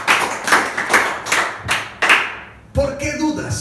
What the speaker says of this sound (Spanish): Vamos a aplaudir al Señor.